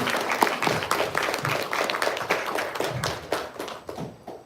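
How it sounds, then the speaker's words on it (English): An audience at an anti-corruption law training programme gives a round of applause to welcome a professor, dense and continuous clapping from many hands that carries on steadily and tapers slightly at the end, with no speech. "I request a round of applause to welcome the person who welcomed all of us"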